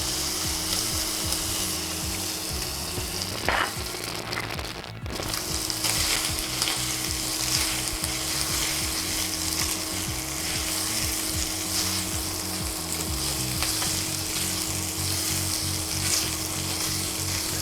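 Pork sizzling in a pan with light soy sauce, a loud continuous frying crackle close up, broken by steady rhythmic stirring and scraping, with no talking.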